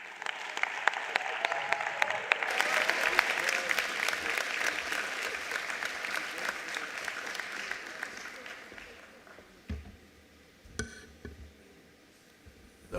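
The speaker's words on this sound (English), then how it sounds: "let's please put a warm round of applause for Minister Sivue Kwahube" Warm round of audience applause for a government minister at an exam-results announcement, swelling quickly, then fading after several seconds into a quieter room with scattered thumps and a voice.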